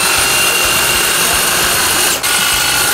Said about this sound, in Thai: บอสเขามีเครื่องตัดแต่งกิ่งและพุ่มไม